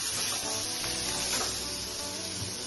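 Pumpkin pieces fry in hot oil in a kitchen, giving a steady, close crackling sizzle with no pauses.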